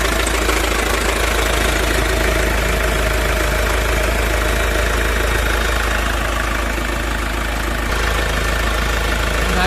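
Mahindra Scorpio S5 BS6 engine, after a DEF fault, idling loudly and close by with a constant low rumble and a faint knocking texture, alone for nearly ten seconds.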